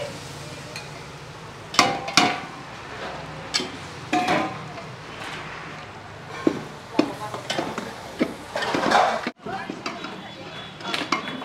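A spoon stirs and scrapes vegetables frying in oil in a pan for Jain masala pulao, with bell peppers, peas, banana pieces, turmeric, hing and chili paste. Soft sizzling runs underneath sharp, irregular scraping knocks, while people talk nearby.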